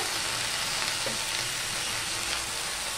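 Spinach, tomato and green chili sizzle and fry in a pan, producing a steady, close crackling hiss that stays even throughout without any talk.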